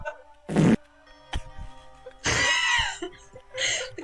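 A short, blurting fart sound effect from the Danganronpa 2 video game, a brief low burst near the start, followed by scattered quieter noises and a few breathy, laughing-like bursts.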